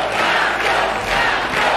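A television studio audience on a reality show cheers and claps loudly in a dense, continuous burst of applause and shouting.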